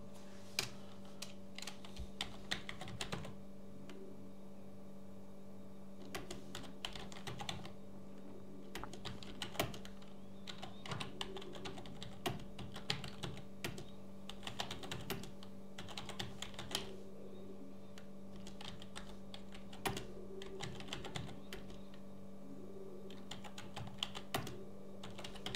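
Keys on a computer keyboard are typed in quick irregular bursts with short pauses, the clicks close and fairly quiet over a steady low background hum.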